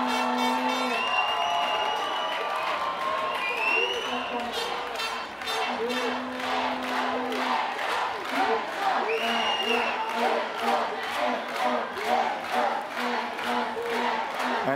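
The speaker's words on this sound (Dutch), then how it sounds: "publiek dat massaal achter de verdediging van de Angels gaat staan, zoals u misschien kan horen" American football crowd at the Belgian Bowl in Brussels cheering for the Black Angels defense on a third down, loud sustained roar with rhythmic chanting and clapping pulses building over the crowd noise.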